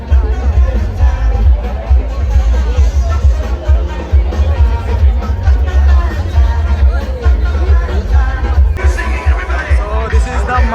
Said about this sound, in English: It's a hell lot of crowd here today.